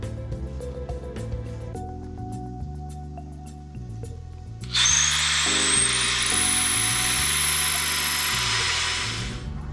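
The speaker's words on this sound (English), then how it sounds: "come over here and I want to drill these through" A power drill boring holes through metal gate latch parts, a loud steady whine starting about midway and running to the end, close and alone, with a low hum beneath.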